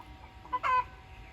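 A backyard hen gives a short, loud squawking cluck after laying an egg, a brief burst of two calls against quiet farmyard background.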